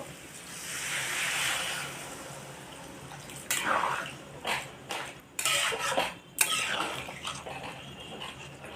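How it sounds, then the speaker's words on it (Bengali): Water poured into a cooking pot of ghugni, a yellow pea curry: a steady broadband wash at first, then several short splashy bursts and clattering pulses as the pot is handled, fairly close with no voices. "এর মধ্যে এবার জল দিয়ে দেবো"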